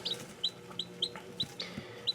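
Several short, bright clucks and calls from Ayam Cemani chickens, a rare all-black breed, come in a loose, irregular rhythm over quiet background noise, close and moderately loud.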